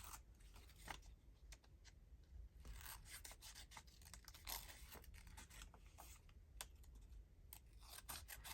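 Scissors snip through paper in careful fussy cutting at a craft table, close and quiet, with a steady series of small crisp clicks and rasping blade strokes and no talking.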